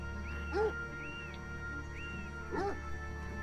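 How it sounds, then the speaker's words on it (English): Two short, whiny dog barks in a video game, a couple of seconds apart, fairly faint, over a steady electronic hum and soft tones. "being blind and hearing a dog bark nearby would be terrifying"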